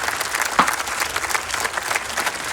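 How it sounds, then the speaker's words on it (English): Crowd of people clapping together in a round of applause, a thick, lively patter of many hands with a few louder close claps, sustained throughout. "let's give him a round of applause"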